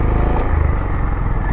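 Honda CB350 motorcycle engine running steadily on an off-road ride, a loud close thumping drone that holds even throughout with no talk.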